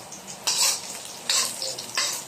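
A metal ladle scrapes and clatters against a pan of garlic and ginger in several loud bursts over a steady sizzle of frying.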